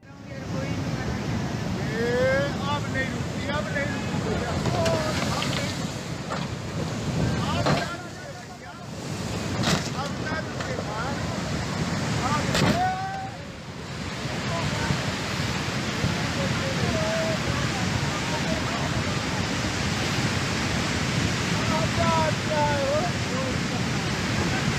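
Floodwater from the Beas river surging over washed-out roads, a loud continuous roar of rushing water with surf-like wash and wind buffeting, steady throughout with brief dips, and faint voices underneath.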